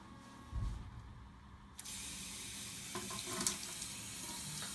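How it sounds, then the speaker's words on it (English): Tap water runs steadily into a sink over a glass tank set up for drilling. The stream starts abruptly after a quiet moment and keeps up a close, even hiss. "I'm going to have water running over it to keep the drill bit from overheating"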